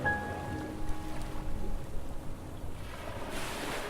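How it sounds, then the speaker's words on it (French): Soft ocean waves washing in a continuous rushing hiss, with a slight swell toward the end. "je me fais réveiller par le bruit des vagues"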